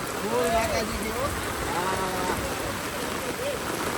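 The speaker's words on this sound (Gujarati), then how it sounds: "ફૂલ જોરદાર વરસાદ આવે છે" Steady heavy monsoon rain hisses throughout in Saputara, with voices talking over the downpour.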